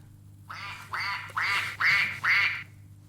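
A duck quacks five times in a steady rhythm, each quack loud, nasal and close.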